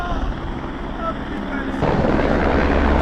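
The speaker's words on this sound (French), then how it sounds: "il y a un hélicoptère qui décolle parce qu'on est devant l'héliport de Monaco" A helicopter takes off from the Monaco heliport, its rotor roar rising loud and steady and thickening partway through, with talk over it.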